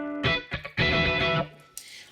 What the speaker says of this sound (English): that's quite distorted. That's because I'm driving it quite hard through a humbucker there.